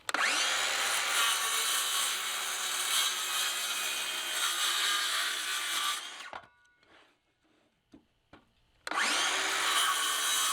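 A power saw cuts through wood for a cold-weather rabbit nest box, a loud steady whine lasting about six seconds, then a pause with a few small knocks before the cutting resumes.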